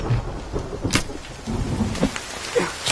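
Thunderstorm in the survival game The Forest: steady rain hiss with low rumbling thunder and a few sharp cracks, moderately loud and alone without talk.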